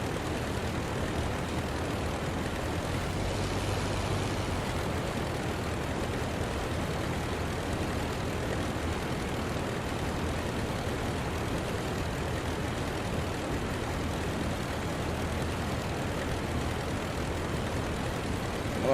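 A WWI-era aircraft engine droning in the flight simulator Rise of Flight, a loud, continuous propeller roar that stays steady throughout with no talking.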